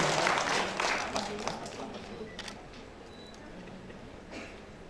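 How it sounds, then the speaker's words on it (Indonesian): Applause at a medical association's opening ceremony in a Jakarta hotel ballroom, fairly faint and distant, strongest at first and then thinning as a presenter's voice continues over it. "kita beri tepuk tangan yang meriah untuk Dr. Siti Chandra Wijananti."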